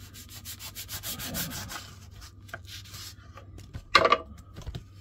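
A dull knife saws through a soft foam pool noodle, cutting a strip for a fishing trace, giving close, steady rasping strokes that pause midway and end with a few sharper scrapes.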